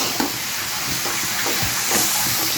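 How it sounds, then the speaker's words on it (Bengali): Chopped green beans and other vegetables sizzle and fry in a pan for a vegetable roll, a steady close hiss with small stirring scrapes and no voices. "আমি এখন সবজিটা রান্না করে নিচ্ছি।"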